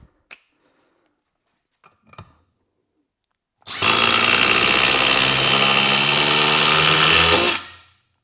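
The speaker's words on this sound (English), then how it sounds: "So we'll start off with the Milwaukee impact." Milwaukee impact driver sinking a screw, a few faint clicks and taps first, then a loud, steady hammering whir for about four seconds before winding down.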